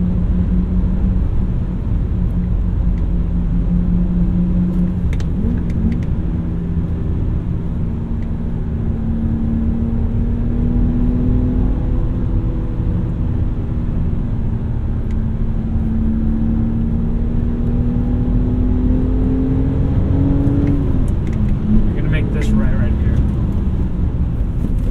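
A 2008 BMW 328i engine pulls steadily through the gears from inside the cabin, a smooth sustained drone rising in pitch with each gear and dipping briefly at the shifts, loud and continuous throughout.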